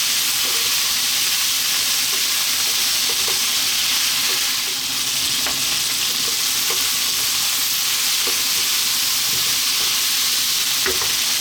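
Vegetables for a Greek-style vegan stew sizzle hard in a pot over high heat, a loud, dense, unbroken hiss running throughout, with faint spoon scrapes and taps from frequent stirring; close, with no one talking.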